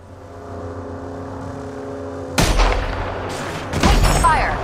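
Rapid bursts of gunfire in Apex Legends while playing as Seer, starting suddenly after a low steady hum and coming in two loud, close, crackling volleys.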